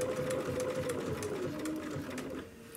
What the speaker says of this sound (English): kind of guiding my machine to stitch it down